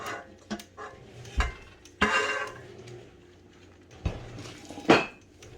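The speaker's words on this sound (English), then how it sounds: "These dishes are precarious." Dishes clatter in a kitchen while pies are baked with a tiny baking kit, with several sharp clinks and knocks scattered irregularly over a quiet background and no talking.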